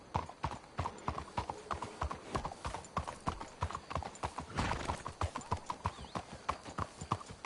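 Horse hooves clip-clop at a steady walking pace in Red Dead Redemption 2, a close, rhythmic series of hollow knocks with no talk.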